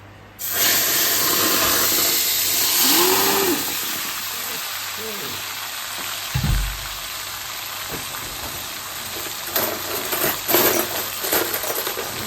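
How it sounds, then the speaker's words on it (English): Kidney pieces dropped into a very hot meat pot, giving a steady broadband sizzle and hiss that starts abruptly and continues throughout, with a few clinks and a brief thud partway. "So I'm just going to be adding my kidney to the pot."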